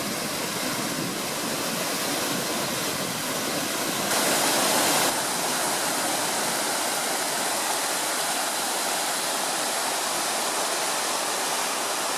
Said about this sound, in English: The sight of this little waterfall at the end of the Pyrmont Rocky Trail.